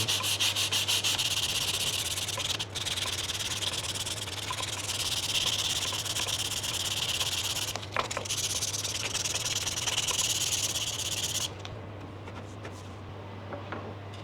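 Hand sanding of a handmade snooker cue under repair, a continuous close hissing rub with long back-and-forth strokes and a few brief pauses, steady and fairly quiet, with no speech.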